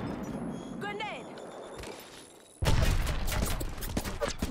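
Gunfire from the Apex Legends battle royale game breaks out abruptly partway through, a loud dense barrage of shots after a quieter stretch of ambient game sound with a few brief tones.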